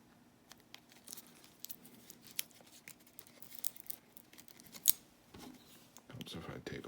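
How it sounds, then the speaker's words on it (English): Scissors snip through packing tape on a mail package in a quick run of sharp, close clicks and cuts, with paper rustling and a low voice murmuring underneath. "Cut all the tape."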